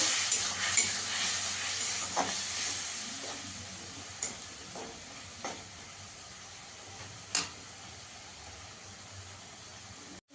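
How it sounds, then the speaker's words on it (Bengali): Ground cumin, coriander powder and Kashmiri chilli powder sizzle steadily in hot oil for a vegetarian mixed-vegetable curry, a soft continuous hiss with a few brief clinks and scrapes of stirring. "মশলাটাকে ভালো করে কষিয়ে নেব।"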